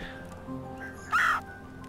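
A single short bird caw from a video game rings out over a quiet, steady background drone, brief and fairly clear.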